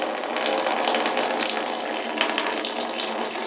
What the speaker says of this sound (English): Blueberry juice coming out of there.